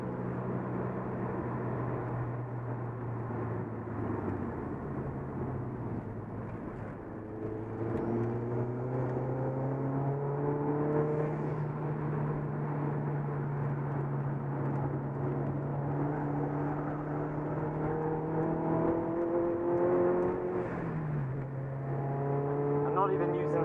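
A Ford Focus RS mk1 on a race track at a track day, engine droning steadily from inside the car with gear changes and rising, falling revs throughout.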